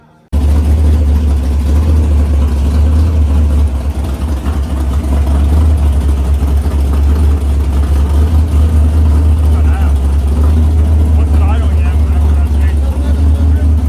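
A 500 cubic inch Mopar V8 fires and runs steadily, a loud, continuous low rumble that holds for the whole stretch with little change in pitch. The engine dominates throughout, and voices may sit beneath it.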